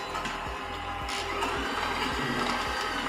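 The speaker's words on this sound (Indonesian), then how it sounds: "Kita mix dengan speed rendah agar dia tercampur rata." An electric hand mixer runs at low speed through coffee bun dough batter, a steady close motor whir with a regular rhythmic clunk of beaters against the bowl, alone without talk.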